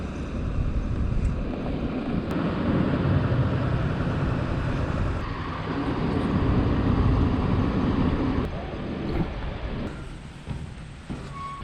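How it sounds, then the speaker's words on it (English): Farm grain dryer fan and burner running beside a grain bin, a loud, steady broadband roar that rumbles continuously throughout without pauses. "my dad's testing the fan and the burner."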